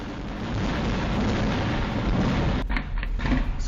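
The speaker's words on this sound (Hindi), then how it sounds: "वहां पर एक फोन बूथ था, उसने पटाखा भर दिया और फिर उसको किस तरह से उड़ा दिया" A phone booth packed with firecrackers is blown up, heard as a sustained loud roaring blast of broadband noise that drops off abruptly near the end, followed by a few rough crackling bursts.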